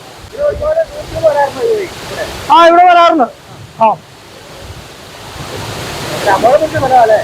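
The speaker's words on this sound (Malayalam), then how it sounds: "ഇതുപോലെ വെള്ളം വന്ന് വീഴുമ്പോ" Steady rush of Marikuth Waterfalls near Thodupuzha pouring down, a broad constant roar beneath intermittent nearby talking.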